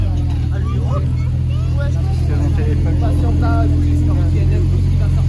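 A Porsche's engine idles in a steady low hum near Paris while people talk and chatter loudly over it throughout.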